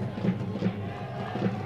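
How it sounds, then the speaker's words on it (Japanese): Japanese football supporters in a Qatar stadium in Doha chanting in rhythmic pulses, distant and crowd-wide, with a commentator's voice faintly over the top. "今度は日本サポーターの声が聞こえてきました。"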